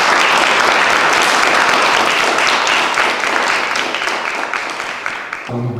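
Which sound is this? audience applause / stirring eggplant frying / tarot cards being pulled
audience applause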